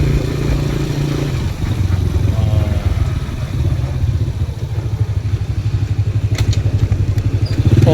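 A motorcycle engine idling and running close by, a loud steady low throb with rattling mechanical clatter, continuous throughout with a brief dip early on.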